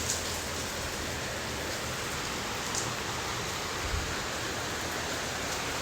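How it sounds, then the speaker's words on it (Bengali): Steady rainfall patters on surfaces around a garden of flowering plants, a continuous even hiss with a few faint distinct drops standing out. "অনেক বৃষ্টি হইতে আছে, আর বৃষ্টি হইলে গাছগুলো একটু একদম তাজা হয়ে যায়"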